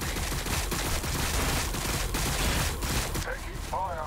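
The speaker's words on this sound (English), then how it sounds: "Taking fire." Sustained bursts of gunfire and explosions from a Warhammer 40K: Battlesector battle, dense and loud throughout, with a voice speaking over the combat near the end.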